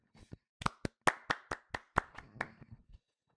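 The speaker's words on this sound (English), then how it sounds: "I just want to give a quick clap for Jimmy's successful waiver spending fab." About a dozen distinct hand claps from a single person, evenly spaced and fairly close, ending after a few seconds with little else around them.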